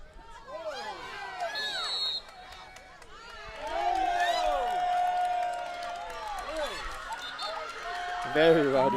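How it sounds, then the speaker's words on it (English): A rowdy crowd cheers and shouts at a girls high school soccer game between Northern Highlands and Wayne Hills. The noise swells and stays loud under steady commentator talk, with a sharper burst near the end. "Very rowdy crowd out here in favor of Hills."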